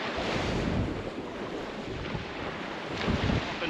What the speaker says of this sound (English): That wind freezing.